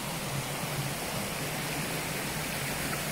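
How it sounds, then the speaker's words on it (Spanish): Water flows steadily in humid jungle near Xilitla, Mexico, a soft, continuous broadband rush like a stream or small waterfall, faint and unbroken, with no distinct birdsong standing out. "Solamente se escucha aquí el sonido del agua y el ruido de las aves."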